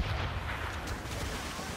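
Cannon fire during a naval battle in Assassin's Creed Rogue Remastered, a dense rumbling roar of heavy blasts blending into continuous low booming throughout the short moment, loud and close.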